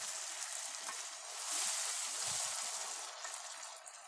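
Onion frying in a pan with salt, coriander, chili and cumin gives off a steady, close sizzle with soft stirring, fairly quiet and uninterrupted.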